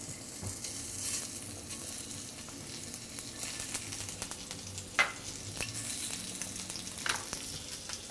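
Pancetta and garlic fry in olive oil in a pan over medium heat, giving a soft, even sizzle punctuated by a few sharp pops and scraping clinks of tongs.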